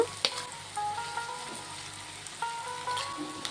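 Mashed boiled potato with turmeric and salt sizzling in a pan, a soft, fairly quiet frying hiss with a few sharp clicks and scrapes of stirring.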